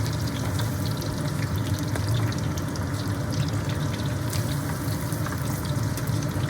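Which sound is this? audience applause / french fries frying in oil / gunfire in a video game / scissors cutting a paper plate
french fries frying in oil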